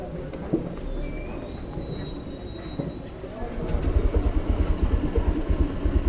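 A motorcycle engine rumbles low and steady, then grows louder with a rapid pulsing throb in the second half, sounding choked before suddenly revving up.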